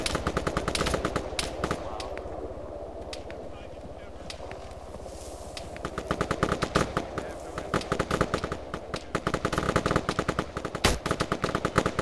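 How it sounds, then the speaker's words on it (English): Rapid bursts of automatic gunfire crackle in repeated volleys, loud and close, with quieter stretches between, sounding like game combat in a military video game, with RPG fire called out. "We got gunfire coming north."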